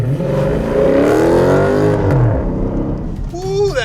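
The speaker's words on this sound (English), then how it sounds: "doing a burnout, spinning the tires until they make smoke" A Dodge muscle car on street tires doing a burnout, loud sustained engine roar with rising revs and spinning tires, ending in a high tire squeal; a voice speaks over the engine.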